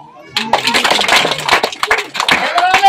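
A village magic show audience claps in a quick burst of close, scattered hand claps, mixed with voices talking over it.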